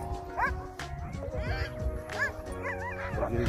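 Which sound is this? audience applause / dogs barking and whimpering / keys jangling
dogs barking and whimpering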